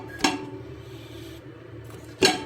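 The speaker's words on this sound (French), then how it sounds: "Là Inch'Allah, je vais les mettre dans une marmite." Artichokes go into a cooking pot with two sharp clattering knocks, one at the start and one near the end, over a steady low kitchen hum with no talking.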